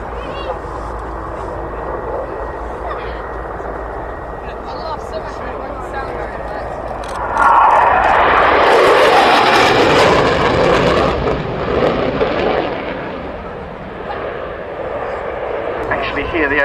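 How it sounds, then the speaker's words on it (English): A Dutch F-16 at an air show demo, flying just below the speed of sound, bursts in suddenly as a loud roaring rush that swells, holds for several seconds and fades, over a background of crowd murmur and talk. "Hear the aeroplane coming, it's just suddenly there, disappears, and then there's this huge noise."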